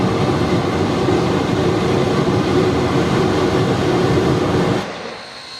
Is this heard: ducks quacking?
no